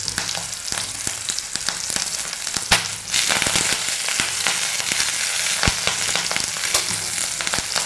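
Green chilies and curry leaves fry in hot oil with ginger and garlic for a sardine pickle, a steady close sizzle with a sharper crackling burst midway.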